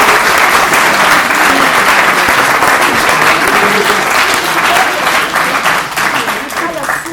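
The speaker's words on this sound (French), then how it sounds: "on peut les applaudir parce que c'est un tour de force" An audience gives loud, sustained applause for amateur theatre actors, a thick wall of many hands clapping close by that eases slightly at the end.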